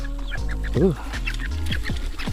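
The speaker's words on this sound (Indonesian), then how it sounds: "Ada banyak ayam di sini. Banyak banget anak ayam, induk ayam." Hens, chicks and a young rooster cluck and chirp near a chicken coop, several close, overlapping calls and short bursts.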